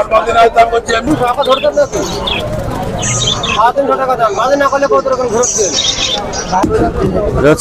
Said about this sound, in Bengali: কবুতর বিভিন্ন জাতের বিভিন্ন বয়সের কবুতর এই হাটে উঠে এবং পাওয়া যায়।